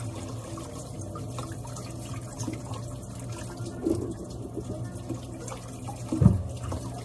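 Cassava roots, about five kilos, being washed under running water, with a steady stream from a tap into a sink, close up, and a couple of louder splashes as the roots are handled; no one speaks.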